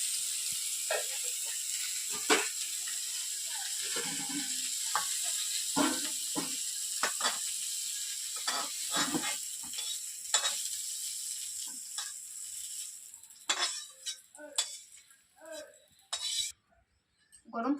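Cauliflower florets for a vegetarian korma sizzle and hiss steadily in hot oil in a pan, with intermittent stirring scrapes and clatters that grow sparser and quieter toward the end.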